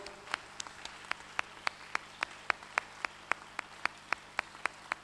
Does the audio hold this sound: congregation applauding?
yes